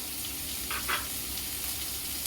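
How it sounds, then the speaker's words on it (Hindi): Chopped onion frying in a pan with dried red chillies and curry leaves, a steady close sizzle with a couple of brief louder crackles near the middle, no voices. "इसे 1-2 सेकंड में प्याज को भून लेती हूँ। प्याज अच्छी तरह भून रहा है।"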